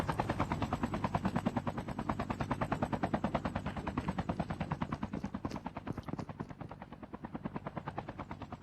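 A helicopter's rapid rotor chop pulses loud and steady throughout a Call of Duty battle royale match, with bursts of gunfire mixed in, no voices over it.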